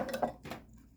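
Utensil whisking a lemon, honey, mustard and olive oil dressing in a bowl, giving a few quick soft clinks and scrapes close by that fade out within a second.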